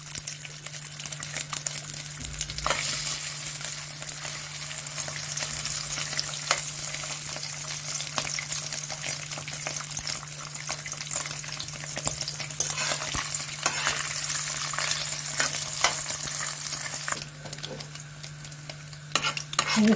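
Sheep tail fat melting in a spoonful of oil in a pan, a constant close crackling sizzle with occasional stirring scrapes and a steady low hum underneath, no talk.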